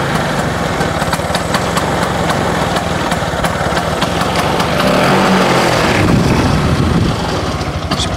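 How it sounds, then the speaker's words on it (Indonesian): A Vespa scooter engine idles loudly and close, a steady rapid putter that stays even throughout with a slight swell near the middle and no voices. "Nah, suara mesinnya udah adem."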